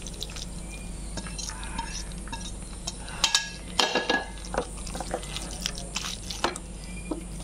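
Okra tipped into a pan of spices and stir-fried gives clattering utensil scrapes and knocks against the pan over a low frying hiss, with a burst of busier clanks in the middle.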